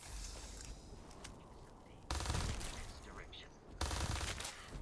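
Weapons including a Maelstrom, a shotgun and an Old Earth pistol firing in Starfield, with sustained rapid bursts of gunfire and two louder, harder volleys.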